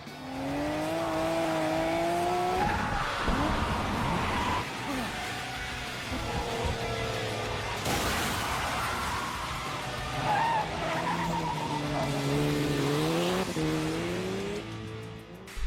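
Drifting race cars, including a GTR, with tyres squealing and skidding through a corner while engines rev and whine, a loud continuous run of sliding screeches rising and falling over about fifteen seconds, with some voices mixed in.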